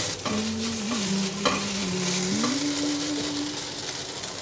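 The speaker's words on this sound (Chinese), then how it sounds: "快速翻炒，炒得差不多了，要起锅前加点黑芝麻，增加营养" King oyster mushroom and tomato being stir-fried in a wok, a loud continuous sizzle with scraping stir strokes and a low steady hum underneath, close by and with no speech.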